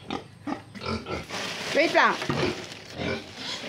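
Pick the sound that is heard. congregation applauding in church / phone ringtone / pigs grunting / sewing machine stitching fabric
pigs grunting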